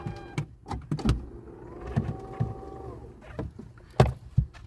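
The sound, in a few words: electric air pump inflating bicycle inner tube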